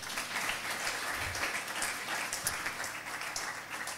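A church congregation claps together during a sermon, a steady wash of applause that holds evenly for several seconds without pause.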